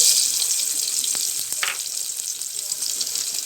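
Chopped onion frying in hot oil in a pan, a steady broadband sizzle running throughout with a brief splashy burst partway through, close and fairly loud, no talking.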